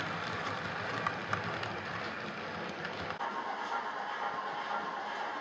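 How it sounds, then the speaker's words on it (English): A Black 5 steam locomotive, number 45208, hauls the Bradford to King's Cross train past Drighlington, a steady broad rumble and rush of rolling stock that drops noticeably in its low end partway through. "Here we see Lowmore Black 5 45208 once again on the 1105 Bradford to King's Cross."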